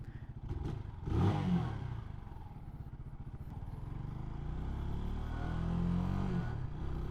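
A CSC SG250 cafe racer motorcycle rides along the road, its engine droning steadily up close with a surge of revving near the start and continuous low rumble throughout; no one speaks.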